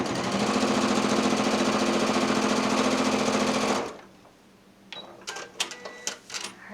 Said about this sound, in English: I'm going to take one big swoop and actually swoop myself just off my quilt top